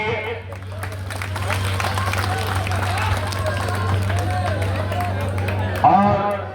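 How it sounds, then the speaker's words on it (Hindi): Crowd applause and clapping ring out for the wrestler Baba Bajrangi at a traditional dangal wrestling meet in Pratapgarh, a steady dense patter lasting throughout over a low hum and crowd murmur. "आप हाथ थोड़ा सा ऊपर कर लीजिए, जोरदार तालियां इनके लिए"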